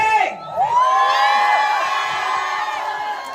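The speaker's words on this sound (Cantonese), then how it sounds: "我繼續俾你哋歡呼聲嚟聽下先" Film-screening audience cheering and whooping for director Stephen Chow and the cast, a loud sustained crowd roar with shrill excited voices lasting a few seconds.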